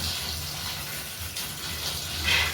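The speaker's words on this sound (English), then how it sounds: "I'm just going to clean these black beans" Tap water running steadily into a sink as black beans are rinsed, a continuous close gush with a slight swell near the end and no talking.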